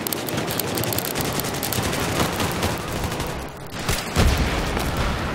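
Dense, continuous gunfire fills a Battlefield match, rapid overlapping automatic bursts and booms loud throughout, easing for a moment before a heavier blast near the end.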